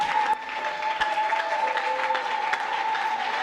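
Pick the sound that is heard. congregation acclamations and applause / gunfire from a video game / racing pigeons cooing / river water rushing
congregation acclamations and applause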